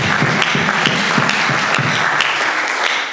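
A church congregation applauds together in a sustained burst of loud, dense clapping, with some sharper rhythmic claps standing out, and no talking over it.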